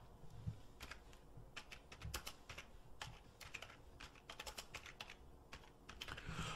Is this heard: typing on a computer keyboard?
yes